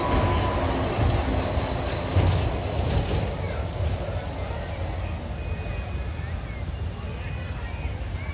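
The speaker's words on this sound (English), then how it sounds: "There goes the monorail." Disneyland monorail train rolling past outdoors at night in the park, a broad rumbling rush that swells then slowly fades, with crowd voices and talk underneath.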